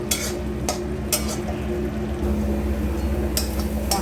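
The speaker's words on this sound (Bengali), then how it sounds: "ভালো করে আমি এবার কষিয়ে নেব।" Spice paste with chilies, oil and a little sugar for egg curry sautéing in a pan, a steady close sizzle broken by repeated spatula scrapes and stirring strokes, with no talking.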